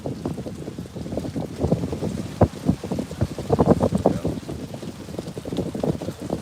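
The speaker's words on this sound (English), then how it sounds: "Yeah, quite the breeze today. Nice little bit of wind here." Wind gusting at a beach at sunrise in Playa del Carmen, Mexico, heard as continuous rough buffeting and rumble across the microphone, swelling and easing over several seconds.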